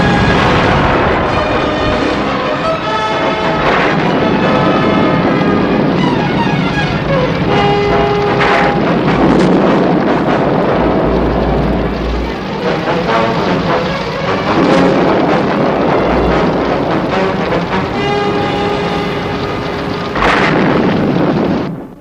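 A raging city fire as a sound effect in the TV series Thunderbirds: a loud continuous roar with deep rumbling booms and crackles, overlaid by dramatic music and alarm-like tones throughout.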